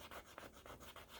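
Quiet, rhythmic rubbing on a mixed-media art journal page, about six back-and-forth scrubbing strokes close up and faint, with no voices.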